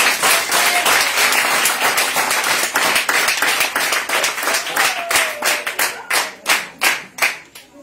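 Church congregation clapping and acclaiming God during a worship service, loud rhythmic hand claps that start as a dense ovation and thin out into distinct, evenly spaced claps toward the end.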